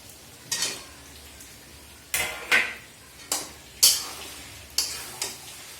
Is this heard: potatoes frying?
yes